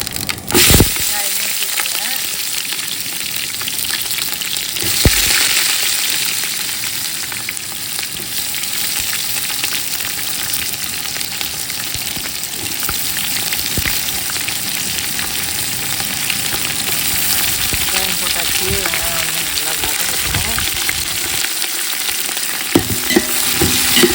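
Cinnamon and cloves fry in hot oil for chicken biryani, with a continuous loud sizzle throughout and occasional stirring clatters in between.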